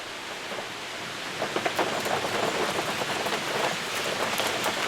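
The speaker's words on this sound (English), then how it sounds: "I love myself a good thunderstorm" Steady rain falls during a thunderstorm as a constant hiss, with denser bursts of patter and drips on nearby surfaces building partway through. No voices can be heard.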